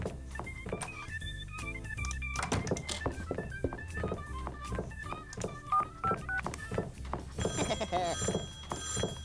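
A telephone in the Neighbours From Hell video game rings in busy, repeated electronic tones over thumping game music and sound effects, with bright chiming at the end.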